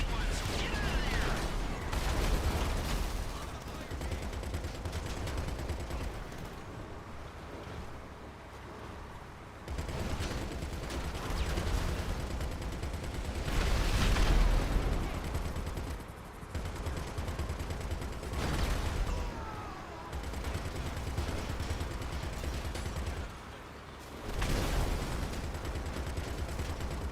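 Video game firefight with gunfire aimed at helicopters: bursts of rapid automatic fire and heavier blasts in repeated waves, loud and dense, with voices talking over the shooting.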